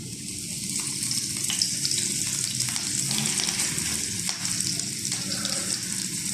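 Dense, continuous sizzle of chicken frying in a hot pan, with a few soft stirring scrapes throughout and no speech.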